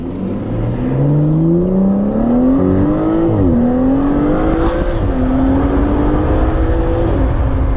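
A 2021 Aston Martin DBS Superleggera accelerates hard, its engine note climbing steadily through the gears with brief dips at each shift, loud and close from inside the car.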